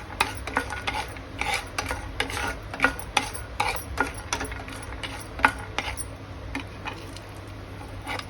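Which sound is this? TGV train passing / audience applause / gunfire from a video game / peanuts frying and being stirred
peanuts frying and being stirred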